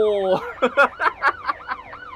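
A police car siren in the Motor Town driving game, a rapid warbling electronic wail sweeping up and down in short repeated cycles, loud and near.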